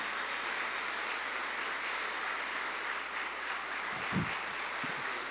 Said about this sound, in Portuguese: Vamos aplaudir, gente, a Jesus.